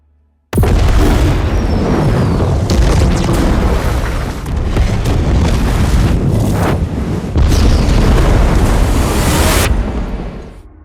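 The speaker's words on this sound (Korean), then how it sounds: "큰 폭발로 이어지고 맙니다." A big explosion from the war film Once in the Desert bursts in suddenly with a loud, booming roar. The rumbling blast carries on for about ten seconds, swells again partway through, then fades.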